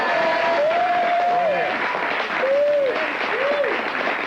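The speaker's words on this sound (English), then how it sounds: "we should all give a rousing round of applause" Applause from a live concert audience, steady and loud throughout, with whistles rising and falling over the clapping and a few voices mixed in.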